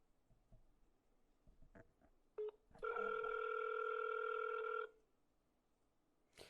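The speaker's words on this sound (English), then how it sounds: "Something was wrong. I think it was my phone." A telephone rings once in a steady, bright electronic tone lasting about two seconds after a short blip, loud against a quiet room with a few faint clicks.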